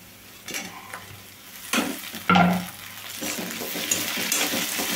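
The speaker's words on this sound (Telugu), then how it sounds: "ఇంకా టమాటో ముక్కలు వేసుకోవాలి." Tomato pieces hitting hot oil and being stirred in a pan for puffed rice upma: a few scraping bursts, then a sudden sharp sizzle that settles into steady frying.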